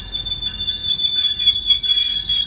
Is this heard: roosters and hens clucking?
no